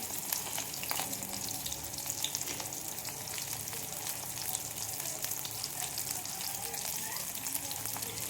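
Dried red chilli sizzling in hot oil in a home kitchen pan, a steady close crackle and hiss that runs evenly throughout with a faint tap of utensils.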